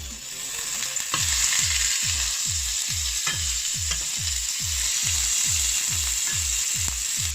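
A seasoned burger patty, seasoned side down, fries in hot oil with a loud, steady sizzle, while a regular series of sharp thumping knocks repeats about twice a second throughout, close up and with no talk.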